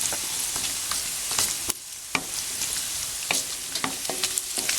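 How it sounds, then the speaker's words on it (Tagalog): Steady sizzling and crackling of pork frying in a pan, with occasional sharper pops and spatters, close and fairly quiet, no talking. "i-prito pa natin ng konti itong pork"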